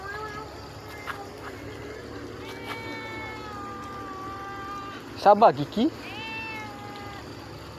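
Cat meowing near the microphone, giving a few short, loud, rising cries in quick succession over steady background hum, with a person's voice talking earlier.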